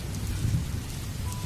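Steady rain patters on a surface with a low rumbling undertone, a continuous wet hiss with no voices.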